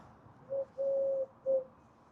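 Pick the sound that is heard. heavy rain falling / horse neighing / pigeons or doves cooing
pigeons or doves cooing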